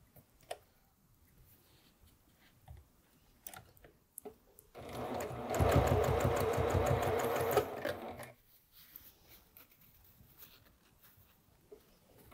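Sewing machine joining quilt blocks along a seam, one steady close run of rapid rhythmic stitching for about three and a half seconds, framed by quiet handling clicks and ticks.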